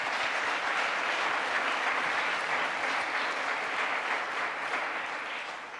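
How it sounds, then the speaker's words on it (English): Conference attendees at an ISMIR 2018 session applaud the session assistants with steady, dense clapping that holds evenly, then starts to taper off near the end. "a round of applause for the assistants that have helped run this session so smoothly"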